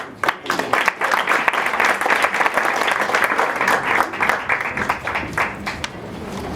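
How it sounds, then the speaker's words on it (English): Warm, sustained applause from a conference audience at a welcome session, many hands clapping steadily and fairly close, with a few voices mixed in. "A round of applause."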